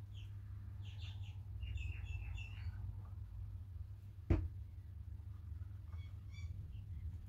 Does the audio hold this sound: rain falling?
no